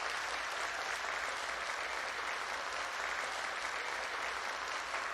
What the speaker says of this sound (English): I exit the stage while the applause is still ongoing.